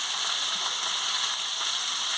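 Ivy gourd and chopped onion frying in a pan, a steady bright sizzle that holds evenly throughout, close and fairly loud with no voices.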